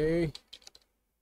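A voice trails off, then a computer keyboard gives four or five quick, light key clicks close by before falling silent.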